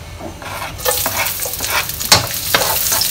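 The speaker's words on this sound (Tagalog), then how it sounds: "So ngayon magsisimula tayo maggisa." Garlic sizzles and fries in hot oil in a pan while a utensil stirs and scrapes it, the hiss rising loud and close and staying steady with scattered sharper clinks.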